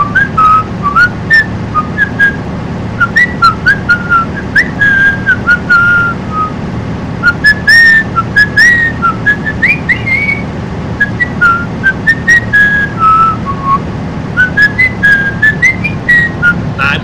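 A person whistles a wandering melody of short, bright notes and slides, close and clear, over a low background rumble.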